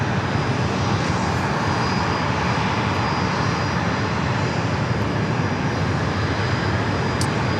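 An Alaska Airlines E-Jet arriving from Salt Lake City at San Diego airport roars steadily and loudly as it passes, a continuous broadband jet rumble with no talk.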